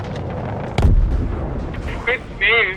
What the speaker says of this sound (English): Torpedo inbound, brace.